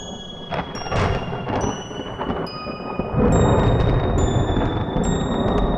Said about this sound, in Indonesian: masih ada suara gemuruh petir?